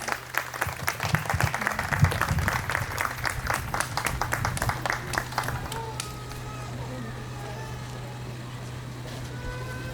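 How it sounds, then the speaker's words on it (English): An outdoor audience applauds at a poetry event on the steps at Opera Holland Park. Loud clapping and crowd murmur run for about six seconds, then die away, leaving a low steady hum with faint background sounds. "So big round of applause for them,"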